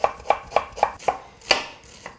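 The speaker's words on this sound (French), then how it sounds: "j'ai juste le temps de couper mon oignon" A knife chops an onion finely on a cutting board, seven sharp, evenly spaced knocks in a quick steady rhythm, close and clear with no talking.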